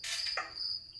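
A cricket chirping sound effect plays as a bright, steady high trill lasting about a second, on its own with no voices.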